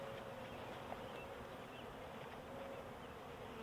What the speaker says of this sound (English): Got some live bees in here yet.